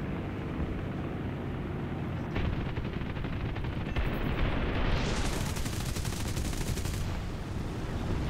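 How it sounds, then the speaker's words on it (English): Explosive roar and rattling gunfire from a War Thunder aircraft battle, with a rocket striking an enemy plane; a continuous loud rumbling barrage that swells into a brighter blast partway through. "Oh, I hit him with a rocket."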